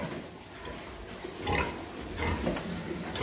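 A farrowing sow grunts in a pig barn as she gives birth, with low, irregular grunts and snorts repeating close by against steady barn background noise, no talking.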